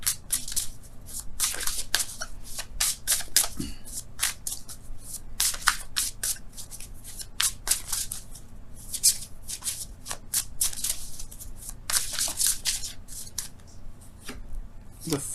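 Tarot cards shuffled by hand during a reading, a long run of close, crisp riffling bursts and slaps repeating irregularly, with a low steady background hum and no clear voices.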